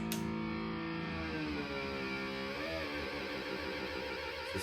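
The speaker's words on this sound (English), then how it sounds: "Kill switch." Electric guitar on a headless guitar with its kill switch, a distorted sustained tone whose pitch bends and wavers, cut off sharply at the start and end by switch clicks, heard alone with no talk.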